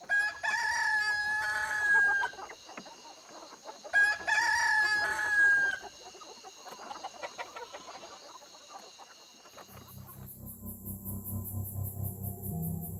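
A rooster crows loudly twice in long, vigorous calls after feeding, with clucking between them, and then a lower rumbling sound takes over near the end.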